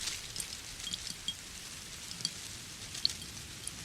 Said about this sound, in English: the sound of rain hitting a piece of glass